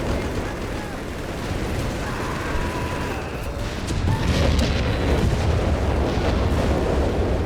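Mass artillery barrages and explosions in Company of Heroes 3, a dense, continuous rumble of booms and blasts that swells louder partway through, with a voice faintly under the din.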